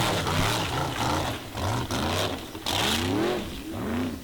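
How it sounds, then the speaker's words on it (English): An off-road racing car's engine, running poorly, roars and sputters unevenly, revving in rough pulses that rise and fall as it struggles. "If you listen to the engine, you can hear it's not working properly."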